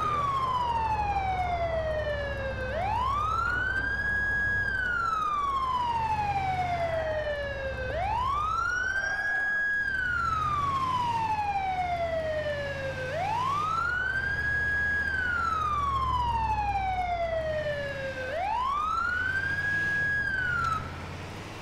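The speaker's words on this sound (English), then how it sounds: "I always turn my siren off when there's no one around," An ambulance siren in the video game GTA IV wails loud and close, rising and falling in a long, even cycle that repeats four times without break.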